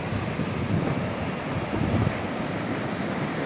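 Ocean surf at Umhlanga Beach, South Africa, rolls as a constant broadband roar with gentle swells, heard from a distance and mixed with steady wind buffeting on the microphone.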